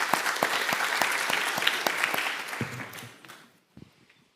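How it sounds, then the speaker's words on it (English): A conference audience applauds its speakers at a university senate event: dense, steady clapping that fades out toward the end, leaving a couple of isolated claps before quiet. "Last round of applause for these speakers"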